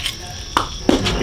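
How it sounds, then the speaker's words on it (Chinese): Yak ribs being chopped into long pieces with a cleaver: two sharp, close blows about a third of a second apart, each a short hard thud over a quiet background. "剁成长节"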